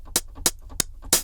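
A 909 closed hi-hat drum sample, four short crisp metallic ticks at an even pace, bright and dry with quick decay, played alone and close.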